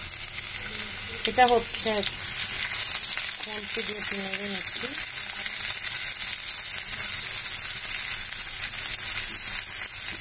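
Onions fry in hot oil in a pan, a steady bright sizzle running throughout, while someone speaks briefly over it near the start.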